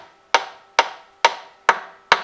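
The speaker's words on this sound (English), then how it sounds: "I will put it into that peg hole and gently hammer it like this" A peg pushed into a violin peg hole is tapped with a hammer to loosen another peg, five evenly spaced sharp wooden knocks, close and clear with quick decays.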